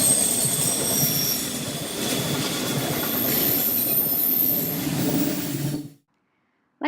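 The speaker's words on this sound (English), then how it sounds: "I saw a train passing" Train passing near a campsite at Larrabee State Park in Washington, a loud, steady rumble of railcars and wheel noise with faint high squeals for about six seconds, then cutting off abruptly to silence.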